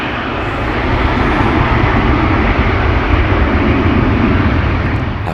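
Airplane engines roar loud and steady during an aborted takeoff, a broad sustained rumble that swells slightly and then eases toward the end.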